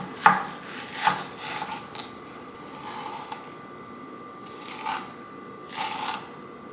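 Knife chopping a ripe mango into cubes on a cutting board, a few separate taps and thuds spaced irregularly, moderately close, with no talking.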